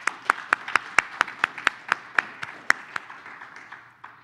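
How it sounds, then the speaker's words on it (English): Scattered audience clapping at a workshop session, distinct individual claps in an irregular rhythm that thin out and fade toward the end, moderately near in a quiet room. "give them a round of applause"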